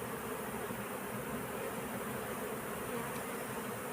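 Honey bees buzzing densely at a hive, a steady close continuous drone of many insects with no pauses.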